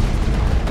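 A rocket explosion from the Mass Effect video game lands as one loud, dense boom that fills the whole short moment.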